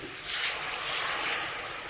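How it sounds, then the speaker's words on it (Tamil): Water from a rinsed grinder jar pours into a pan of sautéed bottle gourd for a kulambu curry, making a soft, steady rushing splash close by with no talk. "இந்த ஜாரை கழுவி தண்ணி ஊற்றுங்க"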